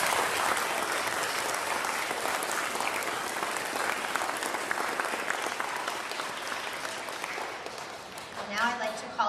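Audience applause at a school Veterans Day program, a dense steady clapping that fills the room for most of the stretch before thinning out near the end.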